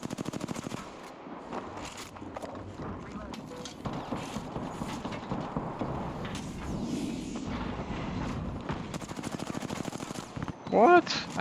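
Gunfire in a video game, with rapid rattling bursts and sharp shots running almost continuously. Someone speaks over the shooting, and a louder burst comes near the end.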